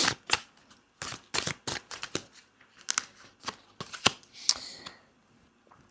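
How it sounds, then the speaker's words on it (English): Tarot cards being shuffled and pulled during a reading, producing a run of crisp, close riffling and snapping card sounds with short pauses, fairly loud and alone. "Let's pull a couple more cards."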